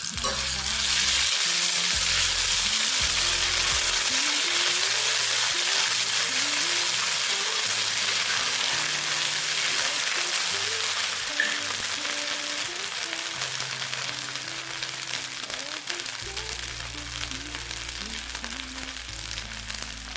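A ground ginger, cumin and coriander paste fries in a pan with loud, continuous close sizzling that eases slightly toward the end, with faint stirring beneath.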